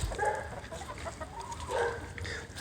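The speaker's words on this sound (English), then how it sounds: "That's the red rooster." A red rooster in a backyard chicken run clucking a few times, soft and somewhat distant, against a quiet outdoor background.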